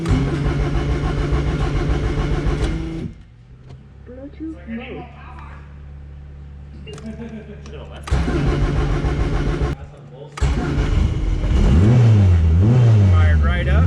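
A turbocharged old hot rod's engine cranks, catches and fires up, then revs in loud bursts with quieter idling stretches between; people talk over and between the revs.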